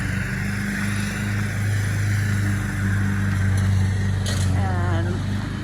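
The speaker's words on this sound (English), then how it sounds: "You can hear it bogging down the mower." Lawn mower engine droning steadily and close, its pitch sagging as it bogs down under load while cutting, loud throughout with a brief higher whine near the end.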